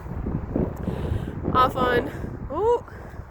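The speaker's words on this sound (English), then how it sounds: "Less wind that way, I hope." Outdoor wind gusting across a microphone on a blustery Groundhog Day, a steady low rumble and buffeting under a person talking, with a few brief higher tones.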